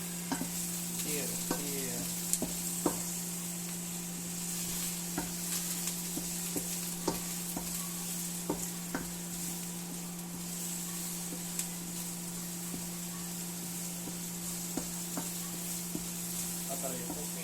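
Broccoli and carrots sizzling in a pan as a small child stirs them, a steady hiss underneath light scraping taps of the utensil, with a constant electric hum and soft voices in the background.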